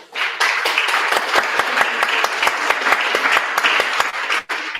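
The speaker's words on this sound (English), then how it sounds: "Please give them a round of applause." An audience at a mayoral candidate forum in Denver applauds, with loud, continuous clapping that carries distinct sharp individual claps and stays steady, then cuts off briefly near the end.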